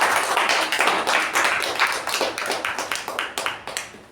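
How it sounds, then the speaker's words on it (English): A small meeting audience gives a round of applause, a dense burst of close, lively hand clapping that thins out into scattered individual claps as it fades. "Let's give him a round of applause."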